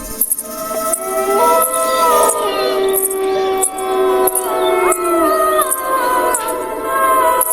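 Dogs howl at night in a Gujarati village. Several long, wavering howls rise and overlap close by, with brief gaps, and a faint voice is heard now and then.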